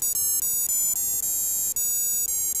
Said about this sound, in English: The beep is a bit soft, so we'll bring it to the microphone so you can hear it.